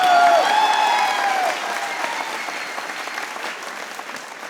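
A studio audience at a comedy show about a Pakistan versus India Asia Cup cricket match breaks into applause, loud dense clapping at first that gradually thins and fades, with a brief tonal whistle near the start.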